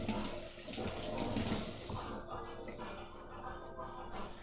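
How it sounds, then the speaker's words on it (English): Tap water runs steadily into a kitchen sink as store-bought vegetables are rinsed, a continuous hiss and splash that shifts tone as the stream hits the produce and basin. "let me rinse this off since it did just come from the store"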